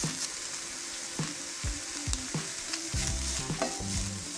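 Chicken kachori filling fries in a pan while a spoon stirs and scrapes through it in repeated strokes, the steady sizzle close and fairly loud, with no one speaking.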